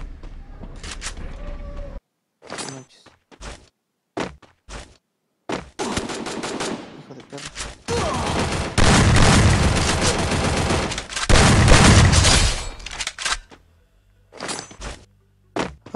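Shotgun fire in the mobile battle royale game Garena Free Fire, heard as sharp isolated blasts and short bursts with thuds, loud and close, gaps of silence between volleys and a dense stretch of firing midway.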